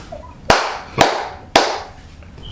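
Three sharp, loud hand claps spaced about half a second apart, each ringing out with a short decaying room echo, alone with no talking.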